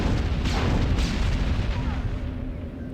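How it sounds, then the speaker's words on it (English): Rockets and missiles explode in a video game, filling the mix with a dense, continuous booming rumble. Sharper blasts land about half a second and one second in, and the roar eases slightly toward the end. "Oh, they got rockets out. Too many rockets out, what the heck?"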